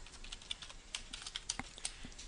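Fingers tap out a quick, irregular run of keystrokes on a computer keyboard, crisp close clicks with short pauses between bursts.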